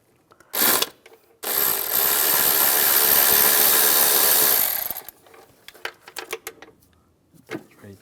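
A power tool driving a T30 socket on bracket bolts of a 2004-2010 BMW X3 intake whirs in one sustained burst of about four seconds, preceded by a short blip and followed by faint clicks and handling noises.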